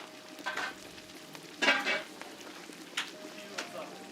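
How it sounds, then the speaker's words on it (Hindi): Kashmiri chillies dropped into boiling ghee for a wazwan tempering give a few short bursts of sizzling and crackling, the loudest one in the middle, over a low steady kitchen background. "खौलते हुए घी में कश्मीरी मिर्च डाल के तड़का लगाया।"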